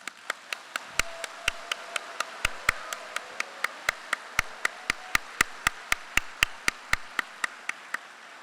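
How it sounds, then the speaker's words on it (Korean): Crisp, evenly spaced claps ring out in a steady rhythmic beat from an audience at a Korean Eurasia advisory council gathering, cheering council chair Lee Jae-myung, with no voices over them. "이재명 의장께 감사와 응원의 힘찬 박수를 보내드립니다"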